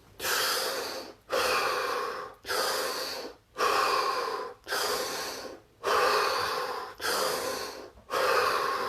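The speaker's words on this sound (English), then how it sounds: "take this time 5 deep, deep breaths, as deep as you can" Slow, deep breaths come close and alone: about eight long airy inhales and exhales in a steady rhythm, each separated by a brief pause.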